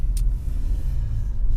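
Car traffic on a busy road heard while driving, a loud, steady low rumble of engines and passing vehicles with a brief hiss early on and no speech.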